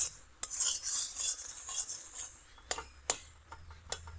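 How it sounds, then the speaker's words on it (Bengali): Boiled potatoes, peas and peanuts mashed in a pan, giving soft rasping scrapes with a few sharp utensil knocks against the metal, close and fairly quiet, with no talking. "এই দেখো আমি এইভাবে একটু থেতলে দিচ্ছি।"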